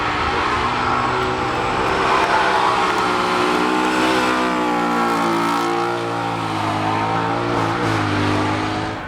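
A GT3 race car engine revving hard at the Goodwood Festival of Speed hillclimb, a loud, close, sustained high-pitched roar with shifting tones throughout, no voices over it.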